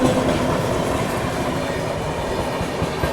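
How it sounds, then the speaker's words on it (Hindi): Dibrugarh Rajdhani Express running via Lucknow and Moradabad on a 110 km/h route, heard close as a loud, steady rush of rolling wheels with rhythmic clickety-clack of the coaches passing throughout. "डिब्रूगढ़ राजधानी वाया लखनऊ मुरादाबाद।"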